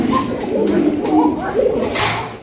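Madrasi golla pigeon cooing close by in a series of soft, throaty rolling coos over about two seconds, with faint background voices.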